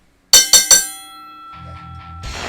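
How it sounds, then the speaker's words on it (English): A bell is struck three times in quick succession to close a podcast, each strike loud and close with a ringing tone that decays, followed by faint rustling and a thump. "we're gonna go. ring the this bell. Oh, it's going to be loud."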